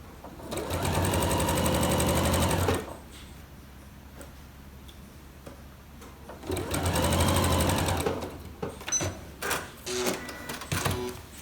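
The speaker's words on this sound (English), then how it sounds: "now I'm going to pull this over to my sewing machine, and I'm going to sew" A sewing machine runs in two steady bursts of rapid stitching on a quilt block, close and loud, with quieter handling clicks and rustles between and after.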